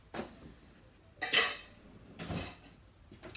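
A cooking pot is taken out and handled, giving a few brief metallic clanks and scrapes spaced apart in a quiet kitchen.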